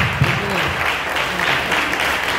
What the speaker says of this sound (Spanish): Damos la ofrenda de palmas a Él.